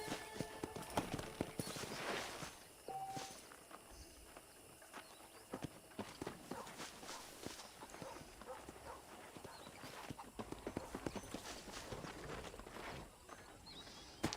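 Horse hooves clip-clop at a steady walking pace in the Red Dead Redemption video game, close and fairly loud over a low ambient bed, with a brief pause before the rhythm resumes.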